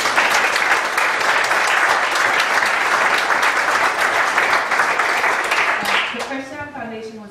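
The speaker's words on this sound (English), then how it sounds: "stand up so we can give you a round of applause" Audience applause at a river education program event, steady loud clapping from a crowd that continues for several seconds and fades out at the end.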